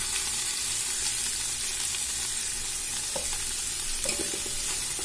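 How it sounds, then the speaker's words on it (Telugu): Mint and coriander frying for chicken pulao, a dense steady sizzle close up with a few soft stirring scrapes toward the end, no talking. "కొద్దిగా ఫ్రై చేసుకొని పుదీనా వేస్తున్నాను."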